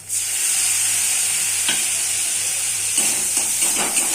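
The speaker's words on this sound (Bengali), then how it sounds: "আর একটু যে জল বাকি আছে সেটাও একটু করে অ্যাড করবো।" A splash of water hits karela sizzling in a pan, raising a loud, steady hiss of steam, with a few stirring scrapes toward the end.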